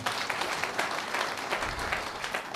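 Audience applause at a network marketing motivational talk, dense steady clapping from a crowd that fills the whole moment without a break, loud and even throughout.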